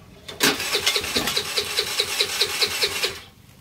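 A very cheap scooter engine sputters as someone tries to start it, giving a rapid, uneven chugging burst that fires up and then dies away after about three seconds, loud and close.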